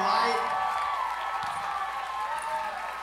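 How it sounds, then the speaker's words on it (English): Audience applause rings out at the close of the Heavy & Light 2019 concert, a dense wash of clapping and crowd noise that stays steady and fairly loud for the full few seconds. "A huge round of applause for all these amazing people on stage"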